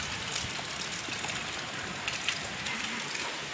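Steady rain falls without pause during a downpour at a home, a continuous broadband hiss with faint scattered drips, fairly quiet and even throughout with no voices.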